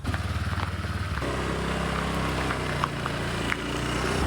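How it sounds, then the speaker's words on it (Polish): A scooter engine hums steadily while riding, loud and close, with a buzzing motor note and road rumble throughout. "Wsiadam na skuterek i jedziemy."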